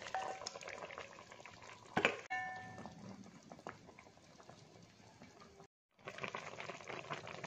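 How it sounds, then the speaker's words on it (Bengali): Bengali boroli fish curry broth made with cumin paste bubbles in a pan, a soft, steady, close simmering gurgle with a sharp utensil clink partway through and a brief drop to silence near the end. "ঝোল ফুটে গেছে, এবার দিয়ে দিচ্ছি ভেজে রাখা মাছগুলো"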